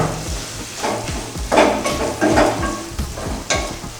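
Onions frying with turmeric in a pan are stirred with a spoon, giving a steady close sizzle broken by repeated scraping strokes against the pan, with no voices.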